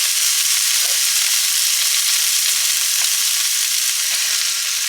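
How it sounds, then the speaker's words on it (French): Onion sizzling as it drops into hot olive oil in a pan with leeks, a steady close frying crackle with a few soft stirring knocks, no voices. "on va venir y ajouter notre oignon"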